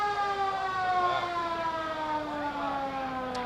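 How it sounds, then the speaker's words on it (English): Sirens wail at a 1999 town parade in Shrewsbury, a steady rising-and-falling tone with layered harmonics that holds loud and continuous throughout, with no talk. "it's so wonderful to hear those sirens"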